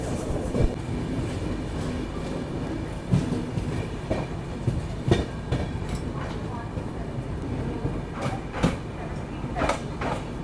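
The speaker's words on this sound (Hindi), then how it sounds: "ये थी LTT डिब्रूगढ़ एक्सप्रेस।" The LTT Dibrugarh Express rolls past on the rails, a steady rumbling roar with repeated clickety-clack wheel thumps over joints and occasional sharp metallic knocks, heard close from trackside or on board.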